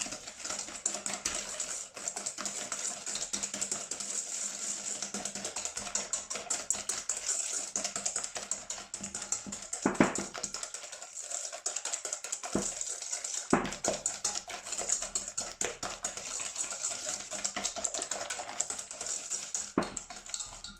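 Waffle batter with added sugar is stirred in a bowl, a steady run of quick, light clicking and scraping strokes, close and fairly quiet, with a few sharper knocks against the bowl.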